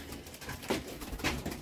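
Racing pigeons coo softly near a loft trap, two or three low, brief coos over a quiet background.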